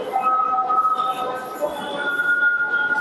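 A metro train in Jaipur rumbles steadily past with thin, drawn-out wheel squeals and a constant hiss, fairly loud and continuous.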